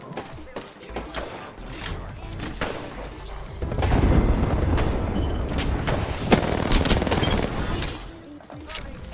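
Rapid video game gunfire from a gun in Apex Legends, loud bursts of shots with mechanical clatter and booms, under game sound and a voice talking.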